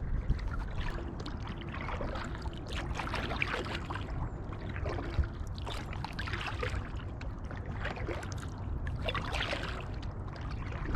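Steady splashing and dripping of a kayak paddle dipping into freezing water, repeating in an even rhythm against a low rumbling background, with no talking.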